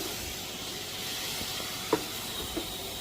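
A spray wand at a self-service car wash in France sends out a steady hiss of foam mixed with water. It stays close and continuous, with a couple of faint knocks.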